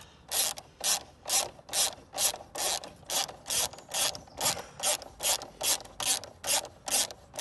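A ratchet wrench loosens a bolt on a car battery, sounding as about fifteen evenly spaced, close, rasping clicking strokes in a steady back-and-forth rhythm, no talking.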